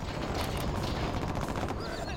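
Sustained, dense rattling gunfire from a Gatling tank in the real-time strategy game Command and Conquer Generals Zero Hour, a loud continuous barrage with no breaks.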